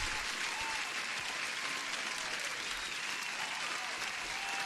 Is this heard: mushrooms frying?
no